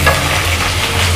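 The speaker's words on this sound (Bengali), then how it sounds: "বিনসগুলো দেওয়ার পরে আমি একটু ভেজে নিচ্ছি।" Green beans frying in hot oil in a wok, a loud close sizzle with a steady low hum underneath, continuous for about a second before cutting off, no voices.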